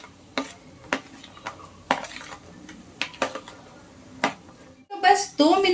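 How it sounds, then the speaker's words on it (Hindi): Capsicum, carrot and French beans being stirred in a pan, with spaced knocks of a spoon against the metal and a short sizzle near the end, all close and fairly quiet. "ये शिमला मिर्ची, गाजर और ये फ्रेंच बीन्स पहले इसमें डाल देने हैं और इसे हमें पका लेना है।"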